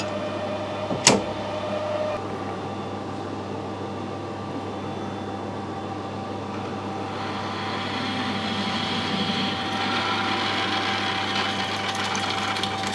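A 10.5mm drill grinds steadily into a broken metal stud, a continuous mechanical whine with rough scraping that grows slightly louder over time, after a single sharp click.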